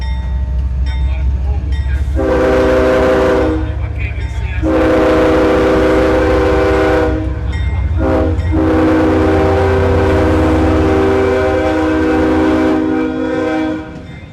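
Train rolling past in Allendale with a loud, sustained horn sounding in several long blasts over a constant heavy rumble of wheels on rail, close and dominant throughout.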